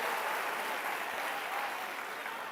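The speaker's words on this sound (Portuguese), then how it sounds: "Se é para aplaudir, aplaude todo mundo junto com vontade." A church congregation claps together in steady, dense, continuous applause that fills the room from start to finish.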